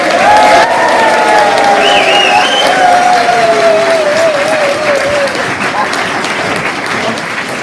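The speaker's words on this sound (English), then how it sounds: "please put your hands together, as in clapping, not praying, for the Reverend Lima." An audience applauds steadily as a speaker is introduced, a loud, full wash of clapping from a crowd, with faint whistles and cheers sliding above it as it slowly eases off.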